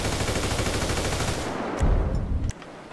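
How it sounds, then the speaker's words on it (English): Dense, rapid assault rifle fire with modded realistic gun sounds in GTA 5 rattles continuously for about two and a half seconds, loud and close, then cuts off into a brief fading echo. "Let's go to the assault rifle."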